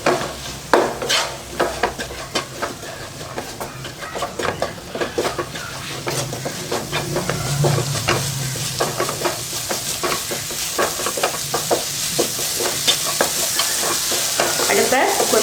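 Vegetables with chili powder, ginger-garlic paste and salt stirred and fried in a pan for vegetable egg podimas: steady sizzling under repeated scraping spoon strokes against the pan, close and continuous, with no talking.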